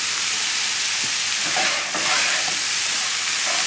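Chilean sea bass sizzles steadily while frying in a pan, a constant bright hiss with faint crackles and no talking.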